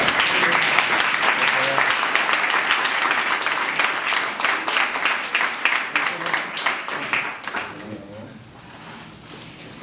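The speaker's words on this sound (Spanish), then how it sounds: "Mauricio está ahí, Antonio está ahí, un aplauso para ellos." Audience applause for Mauricio and Antonio at a Colectivo 28 discussion gathering, dense rapid clapping that holds strong for several seconds, then thins and fades out toward the end.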